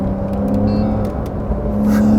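A 2020 Porsche 911 992 Carrera S in Sports Plus mode pulls hard up a highway on-ramp. The engine drone stays close and steady, and a whirring tone holds under the rising growl, with no talking.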